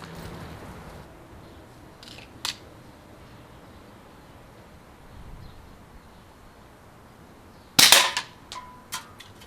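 An Umarex Markpoint break barrel pellet pistol fires a domed Norma energy pellet with one sharp, loud crack close by, followed by a few smaller clicks and knocks after a quiet stretch of faint background hiss.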